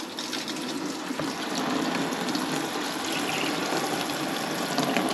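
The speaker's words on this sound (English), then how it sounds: "I'm going to give these a bit of water" A beekeeper pours a bit of water onto a hive for the bees, a steady rushing, gushing stream close by that grows slightly louder partway through, with no talking.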